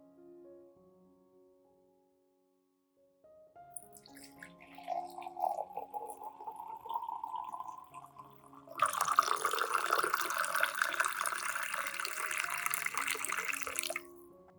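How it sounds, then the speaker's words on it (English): Hot water poured into a container to dissolve a teaspoon of coffee for orchid feeding, starting as a soft trickle and swelling into a steady, splashing pour for several seconds before stopping. "I will dissolve 1 teaspoon of coffee in about 500 milliliters of hot water."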